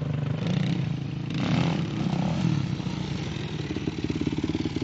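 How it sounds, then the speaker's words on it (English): A motorcycle engine, the 426, runs close by with a steady low throbbing rumble, swelling slightly in a couple of revs before settling into a rapid pulsing idle. "So, what do you think of Scott's bike?"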